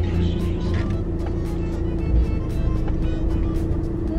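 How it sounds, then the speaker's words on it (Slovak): A car passes on a city street near a shopping centre, its steady loud engine and tyre noise filling the scene with a low rumbling swell, with faint background voices. "teraz ide auto."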